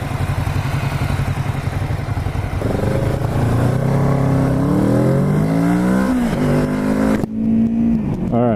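A 2017 Kawasaki Z650 motorcycle engine revs up while riding, rising smoothly in pitch in a loud, close pull with a brief shift near the end, heard alone.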